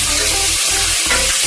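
Potatoes, cabbage and tomato frying in a pan while being stirred, a loud continuous sizzle with soft scraping strokes of the spoon, no talking.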